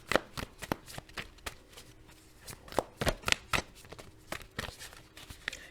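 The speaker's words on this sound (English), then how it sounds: "I'm going to pull some more cards for clarification." A deck of tarot cards is shuffled close up, giving a series of crisp riffling flicks and soft slaps in uneven bursts, quiet overall and with no one speaking.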